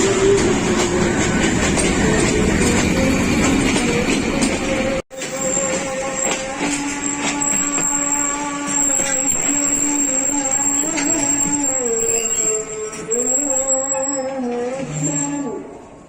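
Pakistan Railways Rehman Baba Express train crossing the Alexandra Bridge, a loud continuous roar of wheels on rails that drops away abruptly, then settles into a quieter rolling clatter with whining, wavering metallic squeals.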